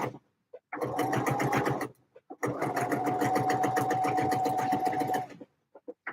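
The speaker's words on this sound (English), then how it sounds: "Right, all of the bias binding is sewn down" A sewing machine stitches down bias binding in two steady, close runs of rapid needle clatter with a brief pause between them, ending with a few short taps.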